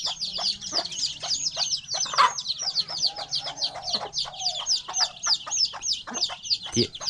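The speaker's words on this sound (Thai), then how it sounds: "ไก่ตีเพื่อนครับ" Bantam chickens squawk and cluck in rapid, agitated bursts as they fight, over a busy background of chirps, with a faint voice now and then.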